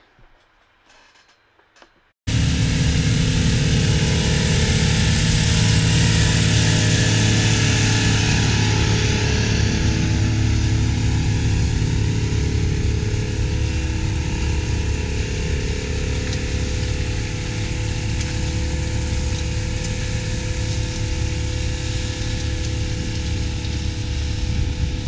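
Big Bud tractors pull 21- and 18-bottom plows in an Ohio field. After a short quiet moment, a loud, steady diesel drone begins and holds for the rest of the clip, with no one speaking.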